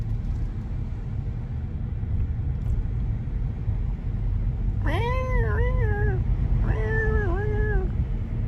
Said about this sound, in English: Courtyard fight, cats flipping out.